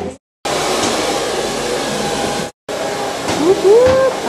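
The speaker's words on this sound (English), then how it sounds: "Alright, we're done the blow dry" A handheld hair dryer blows at a salon during a blow-dry, producing a loud, steady whooshing roar that cuts out briefly twice and then returns, with a faint voice near the end.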